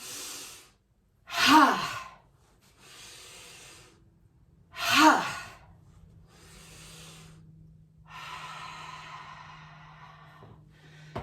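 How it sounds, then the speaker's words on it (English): A person breathes deeply during a casual stretching exercise: two strong, airy breaths stand out several seconds apart, followed by softer, quieter exhales in a calm, near-silent room. "So I'm going to breathe in and bring the arms up."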